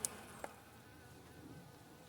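A soft, steady hum of many calm bees buzzing close together in a hive, low and continuous, with a couple of brief clicks near the start.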